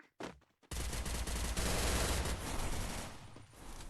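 Dense, sustained automatic gunfire in the Free Fire battle game, a continuous loud rattle of shots that starts after a couple of brief bursts and runs without pause.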